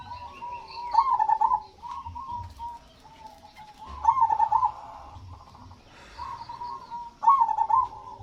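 A zebra dove (perkutut) repeats its rolling, trilled coo three times at steady intervals, fairly close and clear over a low background rumble, with no one speaking.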